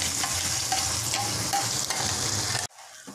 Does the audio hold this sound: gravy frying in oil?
yes